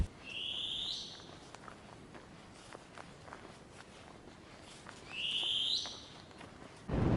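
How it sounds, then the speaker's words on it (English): Two shrill, screechy bird calls ring out a few seconds apart over faint outdoor ambience and scattered footsteps on a mountain range hike in New Zealand's North Island. "That screechy noise is a bird."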